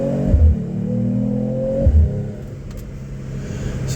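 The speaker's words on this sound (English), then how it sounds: "we got that little Corvette right there" A Corvette engine revs twice in quick succession, each blip rising then falling back to a steady idle, close and fairly loud with no voices.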